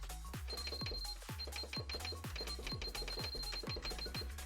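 Rapid repeated electronic beeps, a high steady tone pulsing over rhythmic thumping machine clatter, loud and close throughout.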